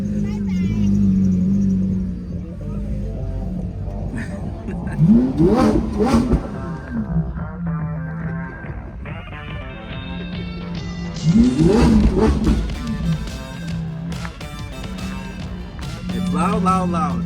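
Lamborghini Aventador engine revving loudly nearby in two big rising bursts that fall away, with a steady idle rumble between, while excited voices talk and shout over it.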